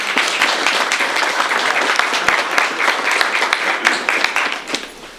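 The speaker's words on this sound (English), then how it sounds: "Let's give him a big round of applause." An audience at a downtown civic gathering gives a loud, close round of applause for the next speaker, with dense, continuous clapping and sharp individual claps that taper slightly at the end.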